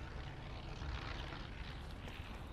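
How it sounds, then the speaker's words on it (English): A propeller airplane drones in a video game as a steady low broadband engine roar, distant and continuous without any clear approach or fade. "I really hope this plane doesn't see me."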